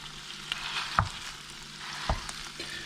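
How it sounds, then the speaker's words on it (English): Cooked rice is broken up and fried in a pan for nasi goreng balado, giving a soft steady sizzle with a few sharp scraping stir knocks and no talk. "the way I'm going to cook this rice in is I'm going to kind of break it up a bit"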